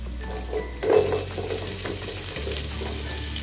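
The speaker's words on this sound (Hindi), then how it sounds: "प्याज ऐड करके उसको हम मिक्स कर देंगे" Onions sizzle and crackle in a hot pan, with a brief scraping stir near the start as the frying continues steadily.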